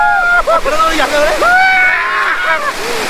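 People splash very cold water on each other at an offbeat outdoor spot in Purulia. Rushing, sloshing water plays steadily under loud, excited voices talking throughout.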